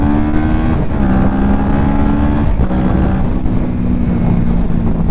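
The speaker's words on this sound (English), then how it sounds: "this is definitely like a loud, people will hear you coming exhaust system" Kawasaki Ninja 650 motorcycle with a Two Brothers aftermarket exhaust, running loud and close with a steady engine drone that shifts pitch slightly as the rider blips and revs, under wind buffeting.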